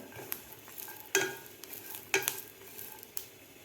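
Sesame seeds, coconut and garlic are dry roasted in a pan for a bitter gourd fry, with a soft sizzle under sharp spatula scrapes and taps recurring about once a second, close and clear.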